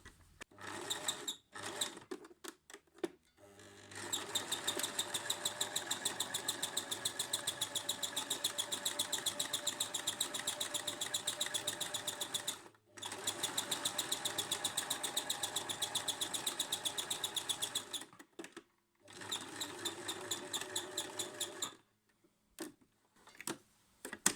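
A sewing machine runs a zigzag stitch on a cotton face mask in rapid, ticking bursts of about eight and three seconds, heard close and fairly loud, with short pauses and faint handling clicks between runs.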